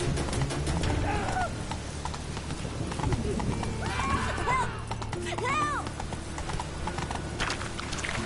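Horse in The Witcher 3 game gallops with rapid, continuous hoof beats and whinnies several times, amid background game ambience with birds, while a person speaks over it.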